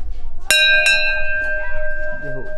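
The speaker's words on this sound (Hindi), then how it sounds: "घंटी बजा देता हूँ" A metal temple bell in Sankri village struck twice in quick succession, ringing out with a long shimmering sustain, close by, with a voice speaking beneath the fading tone.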